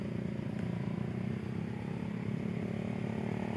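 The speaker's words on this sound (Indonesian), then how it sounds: "Nih suara motor wen dedel teman-teman." A motorcycle engine climbs a steep uphill road toward Bukit Bintang, giving a steady, close, moderately loud drone with a rough, rumbling texture that continues without a break.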